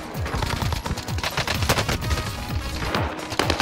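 Rapid bursts from a Milano submachine gun in Warzone, fast repeated close shots in rhythmic strings with brief pauses between bursts, loud and dominant throughout.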